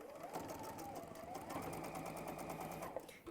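A sewing machine runs at speed stitching a Tilda bird cushion, a fast continuous mechanical whir with a steady motor hum, close and unbroken.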